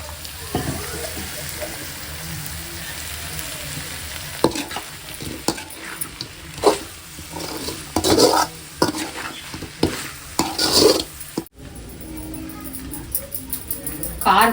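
Chicken fried rice sizzles in a pan while being stirred, with scraping strokes of the spoon and irregular clatters over a constant frying hiss, close by, and a voice speaking now and then.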